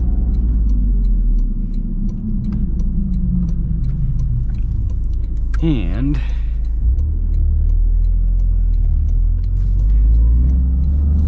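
A 2024 Toyota GR Corolla Core with a turbocharged three-cylinder engine pulls hard in first gear, a continuous low engine rumble and road noise under a brief spoken word, with a short rising whine partway through.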